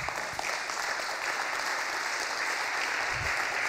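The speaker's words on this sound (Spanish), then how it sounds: "Ok, muchísimas gracias, un aplauso." An audience at a Citylab Latinoamérica 2017 session applauds, a thick, continuous clapping that stays loud and even across the whole stretch.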